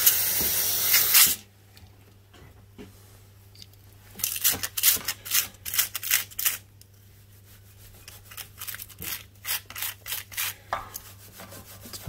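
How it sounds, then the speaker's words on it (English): A short hissing spray burst from an aerosol cleaner can at the start, followed by quieter rubbing and scrubbing strokes in a rhythmic series, while cleaning dirt off a Suzuki KingQuad ATV engine. "let's give it a spray first"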